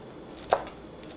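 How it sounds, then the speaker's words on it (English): One knife chop through rolled-up leaves on a cutting board in a coastal kitchen, a single close, sharp knock against a steady background hush. "all we're going to do is roll this up just a little bit and start chopping"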